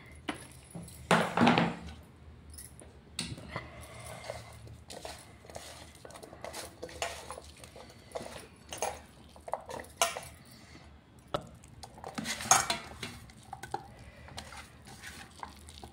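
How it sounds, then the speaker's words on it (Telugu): Chopped onions stirred into a bowl of chili powder, salt, cumin and ginger-garlic paste for a Telangana puffed rice snack, with scattered clinks and soft scraping of a utensil against the bowl, busier near the start and again near the end, and no talk. "కారము, ఉప్పు, జీలకర్ర, అల్లం వెల్లుల్లి పేస్ట్, అందులో ఈ ఉల్లిపాయలను కూడా వేసేయాలి."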